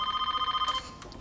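A telephone rings at a reception desk: a steady electronic trill, bright and close, running for most of a second, then cuts off into quiet room tone.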